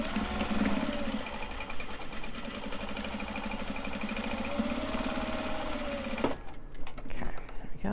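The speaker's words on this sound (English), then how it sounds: "And then we're going to sew all the way down this side." Sewing machine running steadily for about six seconds as a seam is stitched down one side of a fabric piece, then stopping; close and continuous, with quiet handling sounds after it.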